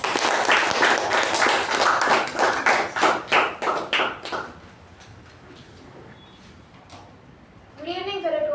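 A Toastmasters meeting audience gives a round of applause to welcome the table topics master, clapping loudly at first, then tapering into scattered claps and stopping, after which a voice begins speaking.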